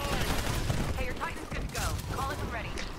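Rapid gunfire bursts from the Titanfall video game, a dense crackle of automatic shots mixed with explosions and mechanical battle noise, continuous and loud throughout.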